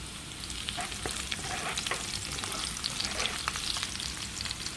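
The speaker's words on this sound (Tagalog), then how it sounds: "So in another pan tayo po mag-igisa ng bawang." Garlic sautés in hot oil in a pan while a Filipino chicken pakam dish is prepared, giving a steady, close sizzle with soft crackles throughout.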